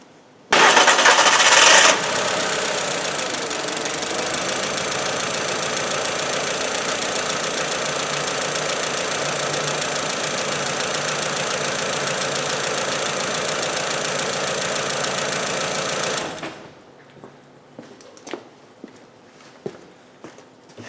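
A 2000 Volkswagen Beetle with the 1.8T engine cranks without starting, giving a loud, steady churning roar for about sixteen seconds before cutting off, followed by a few faint clicks and taps.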